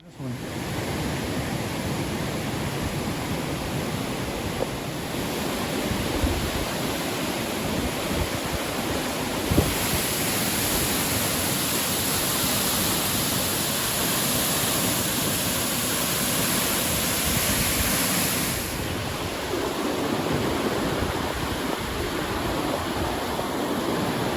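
A steady, dense rush of a hidden waterfall near Silver Jack Reservoir, Colorado, roars continuously, loud and close, like a broad hiss with no pauses.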